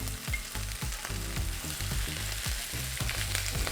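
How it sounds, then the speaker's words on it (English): Onions stir-fry in a hot pan for a vegan fish-cake side dish, a loud continuous sizzle broken by rhythmic scraping stirs roughly every half second, close up and with no voices. "Put in the onions and stir fry for about a minute."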